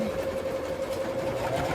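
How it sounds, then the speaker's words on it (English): A home sewing machine stitches a project, running in a steady continuous whir with a constant motor hum throughout. "I'm sewing a project on this machine"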